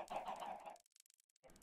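Chickens in Minecraft cluck in short bursts, a busy layered clucking up close, then a near-silent gap with faint ticks before the clucking resumes.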